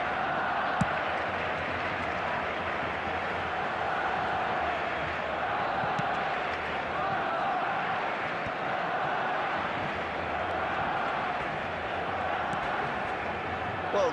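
Steady stadium crowd noise from an eFootball match, a continuous, even roar of many voices at moderate distance with no clear peaks of cheering.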